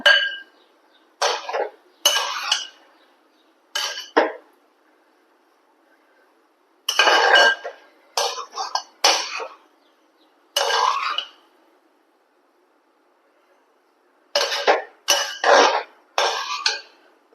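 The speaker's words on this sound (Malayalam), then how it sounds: "നന്നായി ഇളക്കി കൊടുക്കുക" Semiya upma cooked with ghee in a pan is stirred in bursts of close scraping and clinking from a spoon against metal, separated by quiet pauses.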